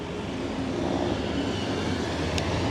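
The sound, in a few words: Los Angeles public transit train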